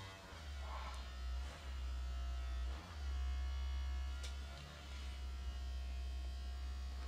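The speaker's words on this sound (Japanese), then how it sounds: "こう突き当てると強く振動が来る" Small handheld massager, a compact model usable in the bathroom, vibrating with a steady low electric buzz that briefly drops and shifts in pitch as it is pressed against something.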